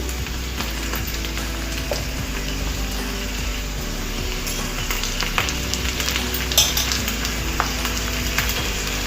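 Coarsely ground masala being stirred and fried with okra for masala bendi, giving a steady close sizzle with faint scraping stir sounds throughout.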